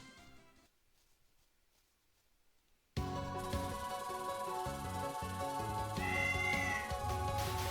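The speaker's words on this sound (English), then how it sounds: "the meow did come from endgame. For there is a cat on screen." A cat meows in the Touhou Subterranean Animism video game, a rising wavering meow heard over loud, steady game music after a quiet opening.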